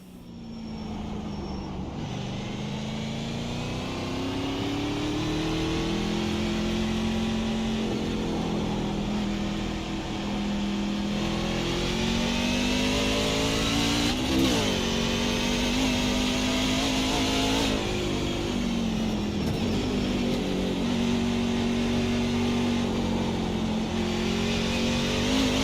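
A NASCAR truck engine drones loud and close on a qualifying lap at the Qualcomm Circuit at Naval Base Coronado, with pitch rising and falling through gear changes and corners for the whole stretch.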